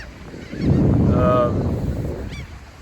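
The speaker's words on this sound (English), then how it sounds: "The birds are here." Geese honking nearby, a cluster of loud nasal honks rising and fading over wind noise and low rumble.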